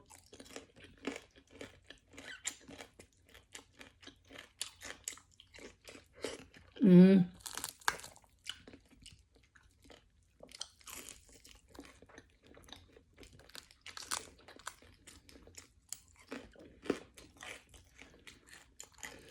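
Close, crunchy chewing of crispy fried tilapia in sinigang in repeated bites, with quiet talk and one sharp louder sound mid-way.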